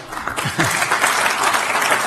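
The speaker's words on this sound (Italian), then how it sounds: "Un applauso, un applauso lo possiamo fare." Applause from an audience at a dairy market workshop in Italy, dense and loud, lasting a couple of seconds with a faint voice near the start.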